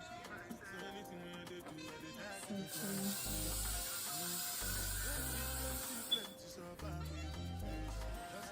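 Hairspray from an aerosol can sprayed in a long continuous hiss while hair is styled for a Christmas-tree crazy hair day look, heard under background music.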